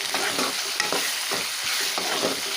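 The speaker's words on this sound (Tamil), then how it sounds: "தக்காளியெலாம் நல்லா வந்து குழைய வந்து வதங்கி வரட்டும்" Steady, close sizzling of salted tomatoes softening in a hot pan, with soft rhythmic scraping as they are stirred and turned.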